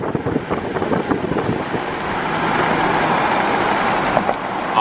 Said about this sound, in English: This wouldn't be a car review without an on-ramp pull.